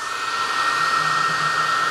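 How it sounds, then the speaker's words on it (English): A hair dryer blows steadily and close on a Stihl BR420 blower's fuel line, a continuous high whirring hiss with no pauses or other sounds. "I'm going to give this a little hairdryer action"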